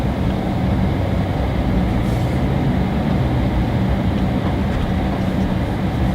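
VW Amarok pickup driving over a bumpy road, a steady low rumble of engine and road noise with rattling from the cabin, continuous and close, no voices.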